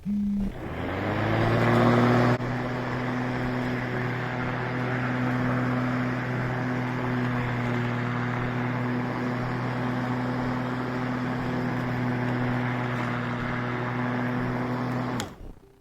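A rebuilt electric lawnmower motor, fitted with a new connector, rewound windings and a sharpened blade, starts up and runs as a steady loud hum and whir for about fifteen seconds, then cuts off.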